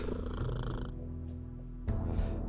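Cat purring during petting in the Kathy Rain 2 point-and-click game: a steady, close, low rumbling purr that runs throughout, with a short louder swell near the end.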